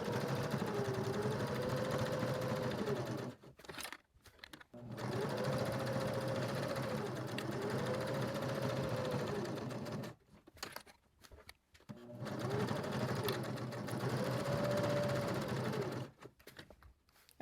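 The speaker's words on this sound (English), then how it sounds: "when I get to the corner, I'm going to leave my needle down, lift my presser foot, rotate the project, and then keep going." A sewing machine stitching a scrap-fabric cover for a mini composition notebook, steady motor whir in long runs broken by short pauses at corners, close and alone.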